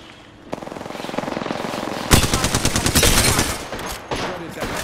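Rapid automatic gunfire from the Apex Legends video game rattles in long bursts that grow denser and louder midway, with brief pauses and a final burst, heard alone without talk.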